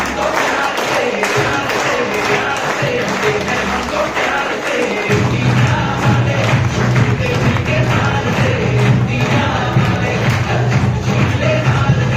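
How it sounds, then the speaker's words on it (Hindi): Crowd applause at a Republic Day program, a dense sustained clapping that swells louder midway and continues steadily to the end. "जोरदार तालियां।"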